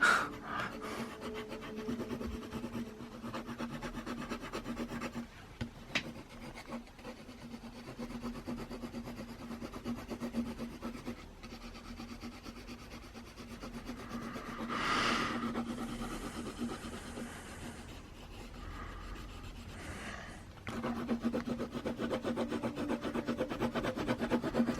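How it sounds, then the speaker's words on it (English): Graphite pencil, 5.6 mm, hatches and scratches across paper while a Rembrandt self-portrait is copied: a steady, close, soft rasping of repeated strokes with brief pauses and one brighter scrape midway, no voices. "I just keep scratching and hatching and whatever it's needed"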